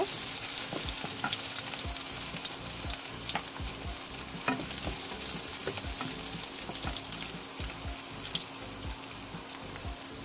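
Chopped onion with onion paste and garlic paste fries in oil in a pan, crackling steadily while a spoon scrapes and taps in quick repeated strokes, close and without voices.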